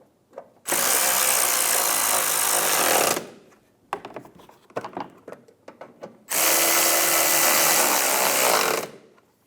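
A power tool drives bolts on a 2010-2015 Lexus RX350 during an alternator replacement, with two loud buzzing bursts of about two seconds each and clinks and rattles of parts between them.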